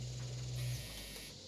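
A stash bin in the game Fallout 76 gives off a faint old-dryer hum, a low steady tone that runs under a second and then stops, leaving a soft airy hiss.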